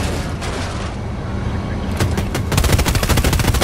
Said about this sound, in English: Incoming fire! Right flank!